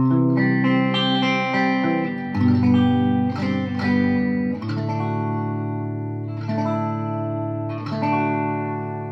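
Clean electric guitar chords ring out through a Quilter SuperBlock UK amp on its Marshall voicing, several strummed chords sustaining and decaying with a touch of reverb, played alone.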